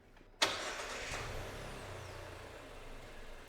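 Car engine cranked with the ignition key, a sudden sharp start after near silence, then settling into a steady idle that hums on, fairly quiet and close.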